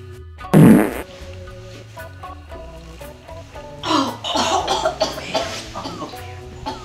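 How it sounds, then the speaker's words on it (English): A dog breaks wind in one loud, short burst, followed by some quieter, rougher noises without any speech. "Everywhere he goes, he farts."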